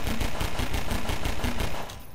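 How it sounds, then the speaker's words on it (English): Rapid automatic gunfire in the Garry's Mod video game, a fast even burst of loud close shots that stops abruptly near the end. "unloading your gun is not gonna help"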